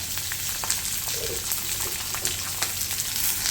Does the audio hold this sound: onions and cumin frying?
yes